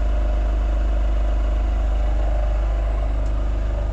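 A generator engine aboard a sailboat runs steadily, producing a constant low, loud mechanical hum and drone with no variation throughout.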